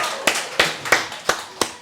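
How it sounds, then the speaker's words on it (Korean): A church congregation at a Sunday service claps together in a steady beat. Five sharp, distinct claps land about a third of a second apart, close and moderately loud. "우리 박수 한번 줍시다"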